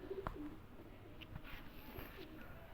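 A single soft coo from a Sialkoti pigeon rises briefly near the start, then fades into quiet background with faint rustling.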